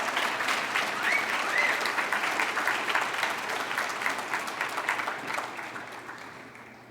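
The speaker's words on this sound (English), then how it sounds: "Let's give Lucas Pendergrass one big round of applause." Applause fills a high school awards day ceremony, a dense crowd clapping steadily and loudly before gradually thinning and tapering off toward the end.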